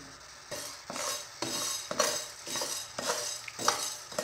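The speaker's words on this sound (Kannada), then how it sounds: "ಅದಕ್ಕೆ ಧನಿಯನ್ನು ಹಾಕಿ ಫ್ರೈ ಮಾಡಿಕೊಳ್ಳಿ" Coriander seeds are dry-roasted on a hot tawa, stirred in rhythmic scraping strokes about twice a second, fairly soft and close, with no talk.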